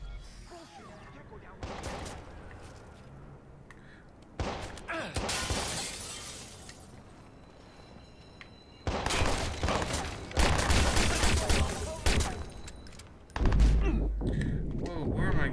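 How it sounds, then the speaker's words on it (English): Gunfire aimed at the player in the Watch Dogs video game, loud bursts of shots and shattering impacts arriving in several violent clusters between quieter stretches, with some talking mixed in. "Whoa, where am I getting shot from?"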